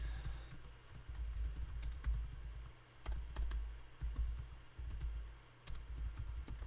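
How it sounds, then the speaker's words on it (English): Typing on a computer keyboard close by: quiet irregular bursts of key clicks with brief pauses between runs, steady and fairly soft, with no voices. "I'm typing terribly."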